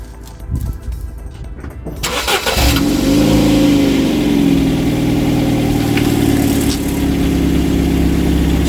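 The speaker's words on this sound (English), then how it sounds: "I do seem to have a rattle coming from the centre section of the exhaust since we've bolted it back together." A Ford Fusion engine with a freshly refitted exhaust that has a centre-section rattle cranks and catches after a short quiet stretch, then settles into a loud, steady close-up running drone.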